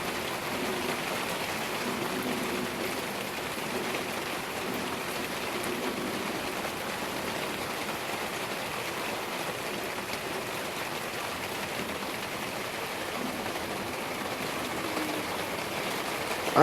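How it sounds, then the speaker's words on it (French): Steady, dense rain pours down through a moderate-to-violent summer thunderstorm in Montpellier, a continuous even hiss of drops on surfaces with no thunder standing out and no voices. "l'orage au niveau de la pluie, il est impressionnant aussi."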